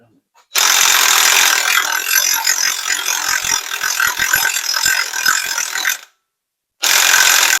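A socket wrench ratchets on a stuck 1 3/4 inch nut on a Farmall Super H tractor during a rebuild. It makes a loud, fast, continuous clicking that stops briefly and then starts again, with no talking.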